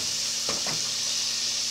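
Chopped onion hitting a hot pan, a constant bright sizzle with a short thump or two of the onion going in, close and steady throughout.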